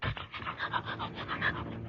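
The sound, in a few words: dog panting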